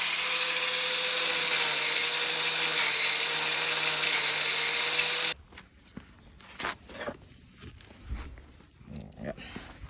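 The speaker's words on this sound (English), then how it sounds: "we're just gonna put a groove in here with the grinder" Angle grinder cutting a groove into a stuck bolt, a loud, sustained high-pitched screech for about five seconds that cuts off abruptly, followed by quieter clanks and handling noises.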